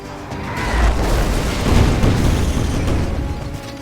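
Grenade blast in the sci-fi strategy game Age of Wonders: Planetfall, a loud low boom with rumbling debris that swells and lingers for several seconds.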